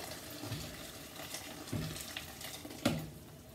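Boiled water pours over cut potatoes and squash in a pot while charquicán is being made, a soft continuous splashing with a few louder gurgles and sloshes, close and moderately quiet with no talking.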